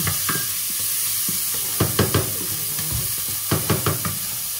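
Chicken liver is sautéed in a pan with onion, a steady bright sizzle hissing throughout while spatula scrapes and taps knock against the pan in short clusters, close and loud.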